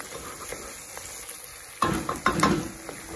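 Onions fry until golden in a pan for a Roman-style squid stew with peas and tomato. A soft sizzle builds into louder stirring scrapes and clinks near the end.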